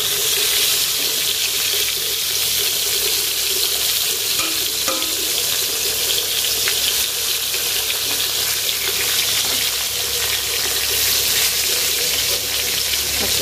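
Fish frying in hot oil gives a steady, loud, hissing sizzle that runs unbroken from start to end, with faint clatter now and then beneath the constant crackle.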